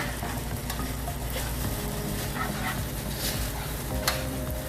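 Garlic shrimp pasta is stirred in a hot buttery pan, a steady loud sizzle and frying crackle running throughout with scrapes of the utensil.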